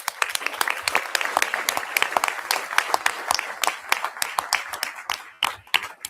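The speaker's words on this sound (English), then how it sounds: "both teams deserve a little round of applause for that" Audience at a District 128 school board meeting gives a round of applause, brisk and crisp clapping from a modest crowd sustained for about six seconds, thinning near the end.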